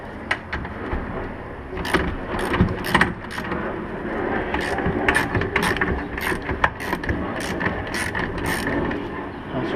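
A ratchet with a 14 mm socket backs out a seat belt bolt in a Nissan 240SX, giving bursts of quick clicking over a steady background of handling and rustling.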